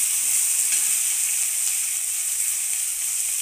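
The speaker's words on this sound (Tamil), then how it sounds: "வெங்காயத்து கூட சேர்த்து நல்லா எண்ணெயிலேயே வதங்கணும்" Onions sauté in oil with pepper, coriander, chillies and chana dal, giving off a continuous, even, bright sizzling hiss at close range with no voices.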